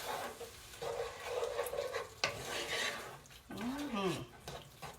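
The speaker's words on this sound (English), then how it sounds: "Give it a good stir." A spoon stirs mushroom and onion gravy in a pan, giving close, soft scraping and swishing strokes with a light sizzle underneath.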